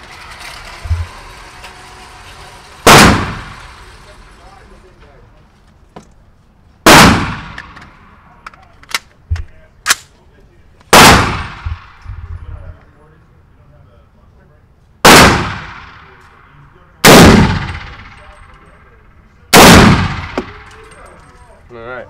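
Sharp, loud gunshots from a 300 Blackout AR pistol at a shooting range, about eight separate reports spaced a few seconds apart, some close together in pairs, each followed by a quick ringing decay.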